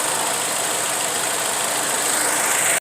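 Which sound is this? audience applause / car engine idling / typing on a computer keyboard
car engine idling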